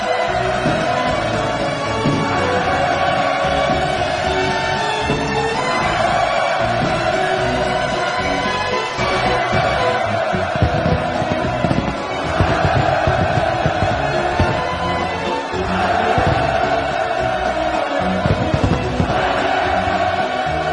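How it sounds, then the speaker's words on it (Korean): Jubilant crowd cheering with celebratory fireworks bursting at a completion ceremony for the Wonsan Kalma coastal tourist zone in North Korea, a dense, continuous roar of voices with music-like tones throughout. "열광의 환호와 경축의 축포탄들이 터져오르고"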